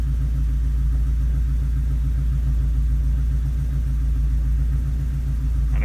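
A Subaru EA82T turbo engine running Megasquirt MS3x engine management, idling with a steady, even low rumble and a rhythmic pulse, close and alone without talk.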